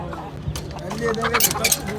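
A Swedish-breed rooster at a busy poultry market in Osmaniye gives short clucks and calls close by, heard beneath nearly constant talking from people at the market.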